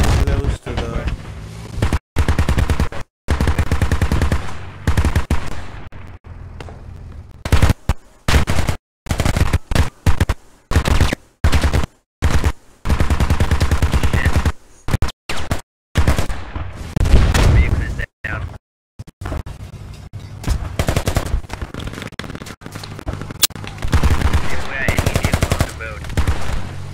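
Machine gun fire in the multiplayer military shooter Squad: loud, sustained automatic bursts broken by brief gaps, with scattered heavier shots mixed in and voices now and then under the gunfire.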